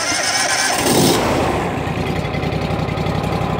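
A Honda IGX 800 engine on a 10 gpm, 3000 psi pressure washer cranks and catches, then settles into a loud, close, steady idle.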